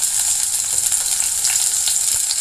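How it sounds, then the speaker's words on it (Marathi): Onion and cumin fry in hot oil for a tempering, giving a steady, close, hissing sizzle with faint crackles and no voices. "फोडणीला मी तेल घातलेलं आहे, जिरं, आणखी कांदा"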